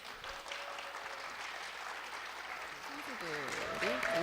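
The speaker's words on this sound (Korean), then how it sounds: "여러분 뜨거운 박수 부탁드립니다." Applause from the audience at a Korean national sommelier competition as the contestants come on stage. Steady clapping runs underneath, and an announcer's voice grows louder toward the end.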